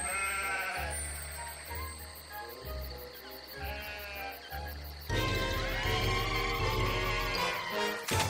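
Sheep bleat repeatedly in the video game Toy Story Mania, a series of wavering, nasal cries over a steady low game hum and tinkling background music. The bleats are moderately loud and come in short bursts without speech.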